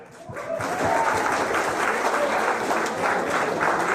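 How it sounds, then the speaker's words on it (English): An audience applauds at a DFL political fish fry, a large crowd clapping loudly and steadily after a brief swell at the start, a dense continuous roar of hands that holds at full strength until the end. "Give yourselves a round of applause."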